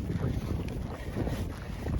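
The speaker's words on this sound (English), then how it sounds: "You can probably hear the wind." Wind gusting across an exposed coastal cliff edge, a steady low roar with buffeting rumble against the microphone, continuous and loud with no voices.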